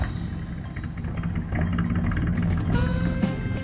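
A classic Chevy Stepside pickup's engine runs steadily nearby with a low, rumbling idle that swells a little partway through, and no one speaks over it.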